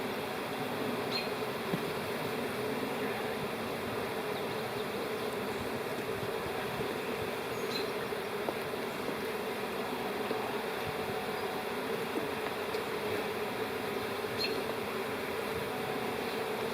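Honeybees swarm around an opened, strong hive full of nectar, a dense continuous buzzing drone heard close and steady throughout with no talking.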